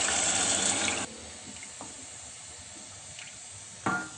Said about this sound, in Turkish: 5 su bardağı suyumuzu da içine ilave ediyoruz